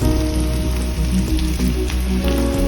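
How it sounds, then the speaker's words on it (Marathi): Prawns and onions fry in a pan for Goan-style solanchi sungta, crackling and sizzling in a dense, continuous patter close by, with no talk. "आता सुंगटा आणि कांदो फ्राय जाल्लो आसा."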